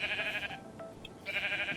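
Sheep bleating in the Minecraft video game: two clear, wavering bleats, one at the start and one at the end, with a short quiet gap between them and no talking.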